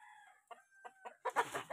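At a poultry farm, chickens cluck in short bursts while a rooster crows, ending in a louder, fuller outburst of calls near the listener.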